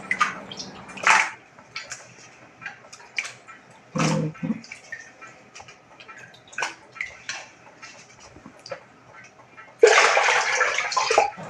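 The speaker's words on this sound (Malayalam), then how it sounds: "കൊത്തി അരിഞ്ഞ കപ്പ ഇനി നല്ലതുപോലെ കഴുകണം." Chopped tapioca being washed in a vessel of water, with intermittent splashes, drips and knocks of pieces, and a louder rush of poured water near the end.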